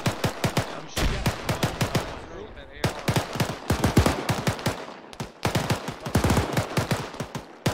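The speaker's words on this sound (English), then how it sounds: "I'm shooting." Rapid bursts of automatic gunfire in the military shooter game ARMA 3, loud and close, with dense repeated shots in several volleys separated by short gaps, and voices talking faintly beneath.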